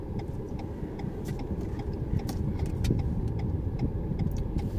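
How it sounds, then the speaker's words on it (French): A steady rhythmic ticking of a car's turn signal repeats over the low rumble of an idling engine inside the vehicle. "J'enlève ce clignotant."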